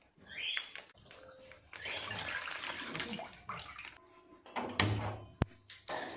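Water dripping and trickling from freshly curdled chhena cheese as it drains, with splashes and small knocks of handling nearby, no talking.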